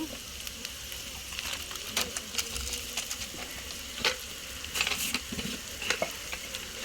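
Egg fried rice sizzling in a pan while a utensil stirs it, with crackling frying hiss punctuated by irregular scraping and tapping strokes, fairly quiet and close.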